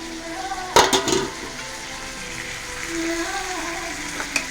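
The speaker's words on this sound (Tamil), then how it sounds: "லெக் பீஸ் மட்டும் போட்டு மேரினேட் பண்ணி வச்சு தான் இப்போ வறுக்கிறேன்" Marinated chicken leg pieces frying in a pan, a steady close sizzle and crackle with a few sharp clatters of stirring or utensils near the start and again at the end.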